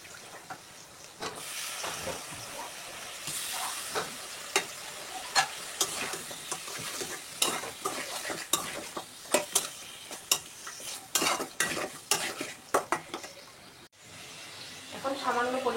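Dried fish frying with eggplant and cumin paste in a pan, a continuous close sizzle broken by frequent scraping stirs and sharp utensil clicks that grow busier toward the end.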